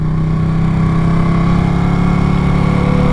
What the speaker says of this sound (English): That's a straight up race bike.